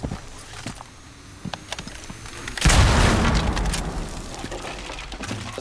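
In Rainbow Six Siege, a deep boom from Hibana's breaching charges bursts out partway through, preceded by faint clicks and crackles and followed by a sustained rumbling tail, with no talking.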